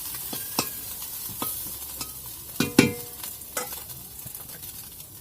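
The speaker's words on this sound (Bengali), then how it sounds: "মাছ ভাজা করতে গেলে একটু আস্তে আস্তে জাল না দিলে হয় না," Tiny small fish fry slowly over low heat in a pan, a quiet crackling sizzle punctuated by repeated sharp spatula clacks and scrapes against the metal as they are turned.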